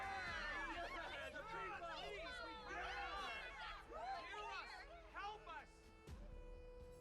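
A restless crowd murmurs in a Honkai: Star Rail story scene, a close babble of many voices that swells and then fades. Ambient game music plays underneath.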